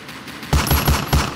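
A burst of gunfire from a Roblox army game: five rapid, loud, boomy shots in close succession after a quiet lead-in, with no talking.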